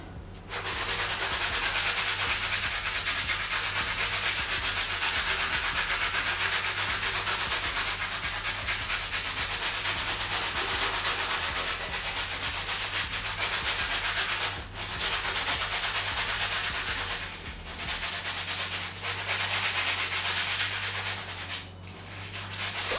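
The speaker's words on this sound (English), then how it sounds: "the stiff bristle brush." A stiff bristle brush scrubs the rubber outsoles of classic white Nike Air Force One sneakers during a restoration, making a steady, loud, continuous rubbing and scratching sound with a few brief pauses and no talking.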